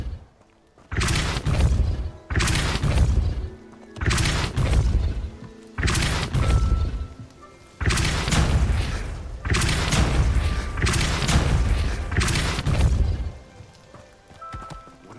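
The Depulso force spell fires in Hogwarts Legacy as a series of about six heavy booming bursts, each a loud rushing blast separated by short gaps.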